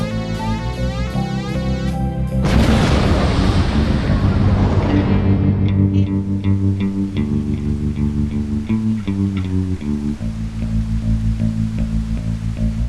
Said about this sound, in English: What do you think that explosion was?